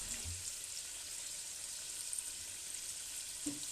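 Spicy lamb chops simmering in a pan, a steady soft sizzle and crackle throughout, faint and even, with a couple of light clinks.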